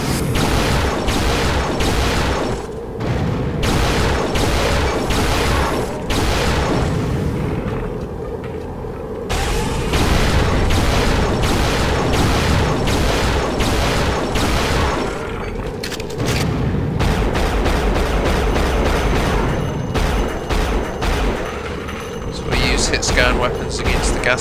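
Rapid weapon fire and booming explosions from the video game Unreal, Sunspire level, a dense near-continuous barrage of loud bursts and blasts with brief pauses, under occasional talk.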